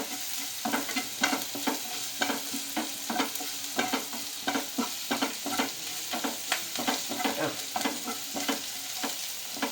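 A spoon stirs onion and carrot sautéing in a pan with salt and crushed chili, giving a steady series of close scraping strokes over a continuous soft sizzle.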